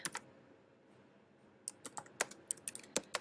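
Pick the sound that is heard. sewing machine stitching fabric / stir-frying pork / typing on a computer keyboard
typing on a computer keyboard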